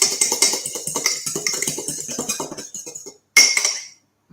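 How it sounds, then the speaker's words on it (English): Egg being whisked in a bowl while making hot cross buns, a quick run of light clinking and tapping strokes against the bowl that stops for a beat, then a short final burst. "So just give that a little whisk."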